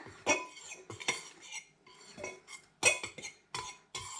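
A spoon clinks and scrapes against a bowl while dry ingredients for a scented paste are stirred together, a string of quiet, irregular metallic taps and scrapes, close by with no talk.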